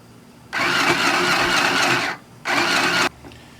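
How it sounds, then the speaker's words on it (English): A sewing machine hemming fabric runs in two bursts, a long steady whir followed by a shorter one after a brief pause. "I'm going to go ahead and hem these with the sewing machine the rest of the way."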